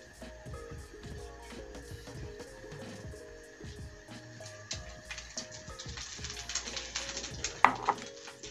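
Sausages frying in a pan for Korean-style scallion pancakes, a low crackling sizzle under rhythmic tapping and scraping of utensils, growing brighter and busier toward the end, close and moderate in level.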